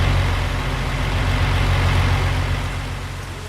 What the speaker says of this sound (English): you actually hear the engines